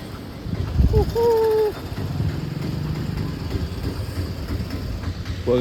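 A train rumbles past nearby with rolling, rattling noise, briefly joined by a high squeal or horn-like tone; a voice speaks over it.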